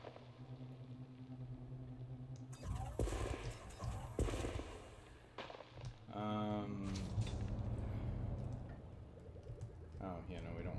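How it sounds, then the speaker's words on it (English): Explosions while deep core mining in Elite Dangerous, several booming blasts and crackling bursts with electronic game effects, loud and close, with a person talking between them. "There's a lot of explosions in the area now."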